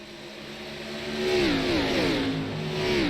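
Race cars battle on track at the Phoenix 200, with loud, close engine notes that rise and sweep in pitch as they pass and accelerate, with no talking.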